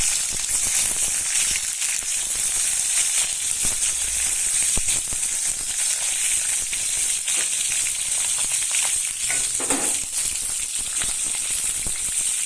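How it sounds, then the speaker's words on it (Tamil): Brinjal pieces fry in oil for a kara kuzhambu, giving a loud, even, close hiss that runs unbroken throughout with faint rattling bits beneath. "கத்திரிக்காய் வதக்க கொஞ்சம் எண்ணெய் ஊற்றி கத்திரிக்காயை போட்டுக்கோங்க."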